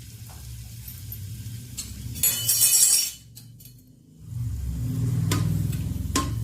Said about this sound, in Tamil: முதல்ல நம்ம எடுத்து வச்சிருக்க பெருங்காயத்தை போட்டுக்கலாம். அது நல்லா பொரியட்டும்.